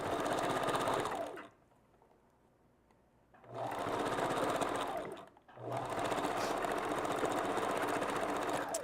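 Sewing machine stitching wig wefts onto a V-part wig cap, two loud steady bursts of rapid whirring separated by a short quiet pause, then a third burst running on to the end.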